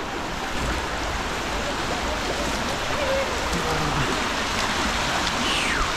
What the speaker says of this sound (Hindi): छोटा सा वाटर क्रॉसिंग है और पानी बहुत ज़्यादा ठंडा है यार।